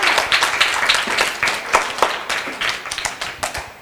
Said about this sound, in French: Applaudissez les enfants encore une fois.